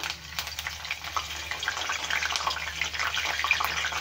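Curry leaves hit hot oil in a kadai while cooking dhaba-style anda keema masala, giving a steady, crackling sizzle with faint bubbling and soft clatter throughout, no voices.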